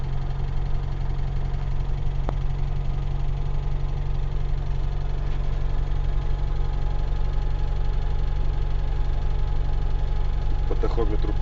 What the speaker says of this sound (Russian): Как будто где-то что-то висит и что-то стучит.